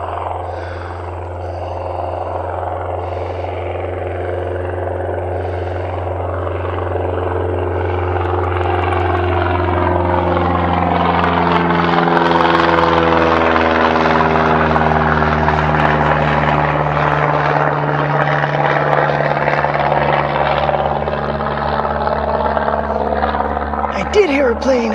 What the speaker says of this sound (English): I think I hear a plane.